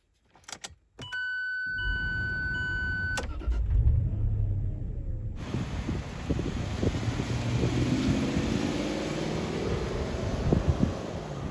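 A Land Rover Discovery 3 rattles with keys, then its engine cranks and catches into a steady idle before pulling away, the drive rising into a continuous rumble with road and wind noise, no talking.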